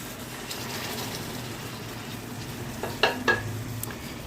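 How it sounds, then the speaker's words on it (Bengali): Mango pieces being stirred in a pan for homemade mango pickle, a soft steady sizzle with a few sharp scraping clinks of the spoon near the end, no talk. "আমটা দিয়ে ভালো করে নেড়ে কিছুক্ষণ ঢাকা দিয়ে রাখবো"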